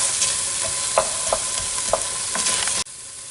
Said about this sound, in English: we're going to stir that up and let that saute for about 2 minutes until it gets nice and soft